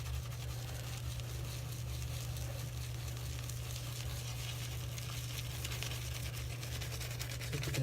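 Shaving brush mashed hard into a firm glycerin shave soap, loading lather with a continuous wet, crackling squish, close and faint, steady throughout with no speech.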